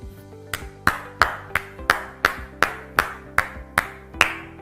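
Students clap together in slow, evenly spaced claps, about a dozen sharp hits roughly three per second, fairly near and moderately loud.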